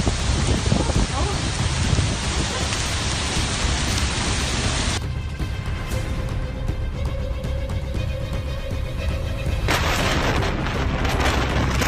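A powerful thunderstorm with heavy rain and flooding roars as a dense, continuous wash of downpour, loud throughout, with a slightly thinner stretch in the middle carrying faint tonal hum.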